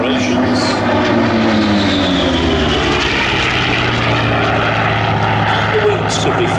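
Grumman F8F Bearcat US Navy piston fighter flying at an airshow, a loud continuous propeller-engine drone with shifting pitch that holds steady throughout, with a voice talking over it.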